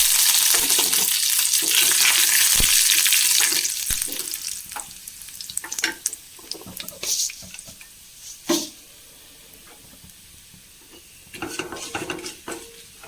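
Curry leaves and masala hit hot oil in a loud, crackling sizzle at the start, then spluttering bursts and stirring clatter come in uneven spurts as the frying settles and quietens.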